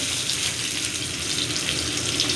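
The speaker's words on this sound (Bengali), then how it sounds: "আলুগুলো লাল লাল করে ভেজে নেব।" Potatoes frying in hot oil in a kadai, a steady, hissing sizzle at even loudness through the whole short stretch, with no voices.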